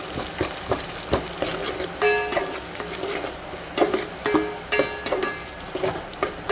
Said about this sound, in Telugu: అందులో మనం కట్ చేసి ఉంచుకున్న ఆనియన్స్ వేసుకోవాలండి. ఆనియన్స్ బాగా ఫ్రై చేయాలి.